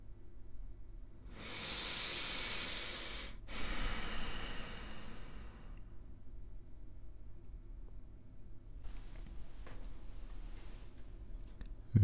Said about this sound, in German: Wir atmen ein. Unser Puls steigt. Wir atmen aus.